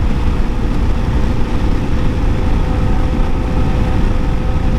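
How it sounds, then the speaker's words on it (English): A Kawasaki KLR650 dual-sport motorcycle engine drones steadily while riding, a dense, even low rumble mixed with wind, close and loud throughout with no talk. "The sound of this bike, it's less throaty sounding"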